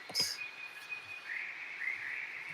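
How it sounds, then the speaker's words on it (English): Soft, thin bird chirps and a few sustained whistling calls drift over a quiet outdoor background wash, faint and distant. "it's mostly birds and some water in the background"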